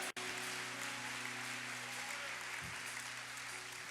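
Church congregation applauding together during a worship service, a steady dense clapping that fills the room from start to finish, with a low hum underneath.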